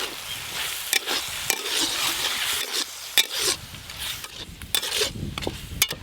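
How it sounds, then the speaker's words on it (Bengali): Ground spice paste for a spicy rohu fish curry (cumin, coriander, dried red chilli, chopped tomato, salt and turmeric) sizzles and is stirred in a pan. There is a steady loud fry hiss, with repeated scraping strokes of the spoon throughout. "সব কিছু মশলা দিয়ে একটু ভালো করে কষিয়ে নিয়েছি"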